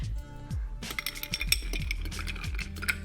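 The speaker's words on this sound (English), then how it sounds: "Add ice to your glass" Ice cubes dropping into a cocktail glass while a Milano Torino of Cocchi vermouth is built, giving a quick run of close, bright clinks and knocks with a few louder rattles.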